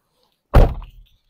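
A Fiat 500 1.2 Lounge car door shuts once with a single solid, close thunk as someone climbs inside, followed by a brief settling rattle and then quiet.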